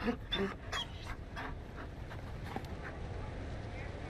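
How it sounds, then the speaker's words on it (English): A Mabari war dog in Dragon Age: Inquisition pants in quick, soft, rhythmic breaths with a faint whimper at the start, close by and fairly quiet over low ambient game noise. "You found a dog. They don't breed Mabari in Olay."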